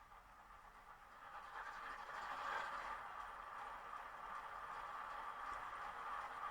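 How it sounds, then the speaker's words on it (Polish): A model ST43 diesel locomotive's sound module plays a steady mechanical rumble with a broad hiss, like the locomotive idling or running, continuous and fairly loud with no talking. "pozwolę sobie właśnie mm, włączyć dźwięk tej właśnie lokomotywy ST43 296"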